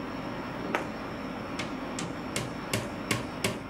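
A hammer strikes a furniture board during assembly, about seven sharp, moderately faint knocks coming at an uneven pace over a low steady background hum.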